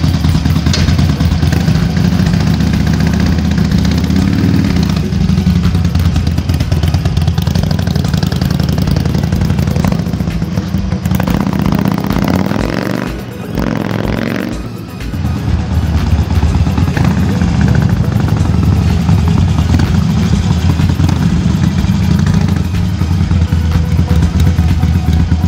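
Harley-Davidson Sportster 883L on a test ride, its engine droning loud and steady throughout with a deep low rumble, easing briefly mid-ride before climbing back.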